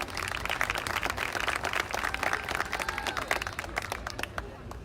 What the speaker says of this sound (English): Another big round of applause for Elena